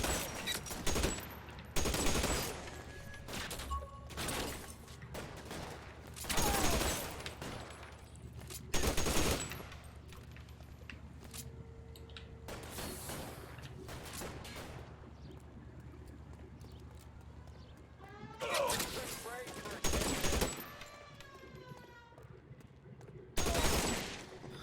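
Gunfire in the L.A. Noire video game, loud scattered shots and short bursts spread across a tense firefight, separated by quieter stretches of low background sound.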